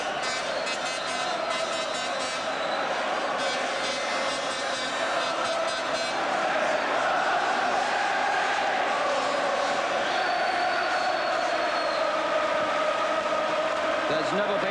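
A large crowd roars continuously inside a boxing arena at a 1985 title fight between Barry McGuigan and Bernard Taylor, a dense sustained din under a commentator's voice.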